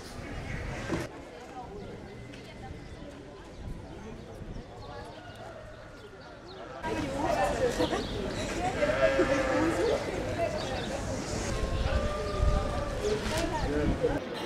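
Sheep bleat repeatedly at the FIARA 2023 livestock fair, several calls rising over a busy crowd murmur with people talking nearby, the bleating growing louder and more frequent in the second half.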